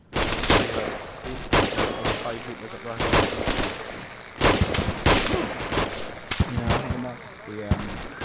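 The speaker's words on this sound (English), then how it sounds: "Bang's going everywhere." Rapid, loud gunfire from a military platoon exercise, with sharp overlapping shots and bursts cracking one after another throughout, close and dense, with no talk over them.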